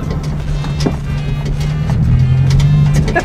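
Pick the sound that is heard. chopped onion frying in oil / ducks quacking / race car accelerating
race car accelerating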